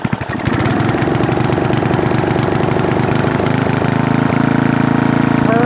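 A 1983 Briggs & Stratton 8hp Sno-Gard winter engine runs close and loud at low speed, settling into a steady, rapid chugging putter after a brief rougher start.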